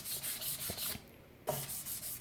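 Rhythmic back-and-forth sanding on guitar frets, a raspy scrubbing in quick strokes with a brief pause in the middle before resuming.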